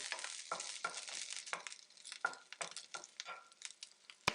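Garlic and green chillies sauté in a pan with a faint, steady sizzle broken by rhythmic stirring scrapes, ending in a sharp clink.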